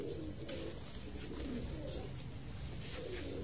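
Pigeons, including Kamangar and Sialkoti breeds, coo softly and repeatedly against a constant busy background, several birds murmuring at once.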